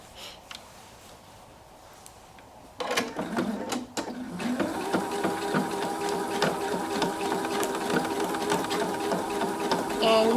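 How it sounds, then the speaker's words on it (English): A sewing machine stitches fabric for a home décor pillow, starting after a quieter moment with a brief clatter, then running as a steady, close mechanical whir with a rapid needle rhythm to the end. "it's time for us to start sewing"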